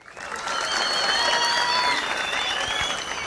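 Audience applause at a Pashto poetry recital, a dense, sustained burst of clapping from a crowd that swells quickly and holds steady before easing slightly, with faint whistles mixed in.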